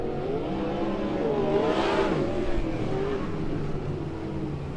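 Sprint cars roar steadily around Keller Auto Speedway during a King of Texas 360 sprint heat race, engine noise loud and continuous with a rising, swelling pass near the middle as a car sweeps by.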